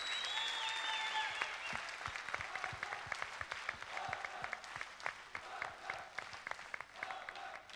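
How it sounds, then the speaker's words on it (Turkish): A studio audience at a televised pop singing competition applauds in a sustained, even burst of clapping, fairly faint and distant, with a brief sung or spoken tone at the start. "Ben Hakan'ın daha büyük bir alkışı hak ettiğini düşünüyorum"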